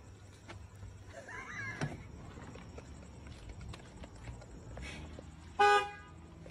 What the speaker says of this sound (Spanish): Como cuando tu compa no sale y le tienes que pitar de su carro